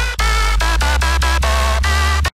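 Synth bass in FL Studio run through a heavily exaggerated Dimension Expander stereo widener, sounding loud, thick and smeared as a short run of sustained repeated notes that stop abruptly.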